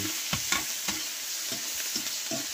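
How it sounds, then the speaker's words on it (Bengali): Rohu fish fries in a pan with a constant loud sizzle and crackle, close up, broken by rhythmic stirring or turning knocks about every half second, with no one speaking. "তারপর একটু ফ্রাই করে নিব।"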